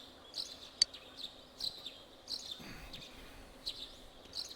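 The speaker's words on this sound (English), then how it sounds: "Hopefully you enjoyed those birds chirping." Birds chirp in the Persona 4 Golden video game: faint, scattered short tweets repeat every second or so over a quiet background hum.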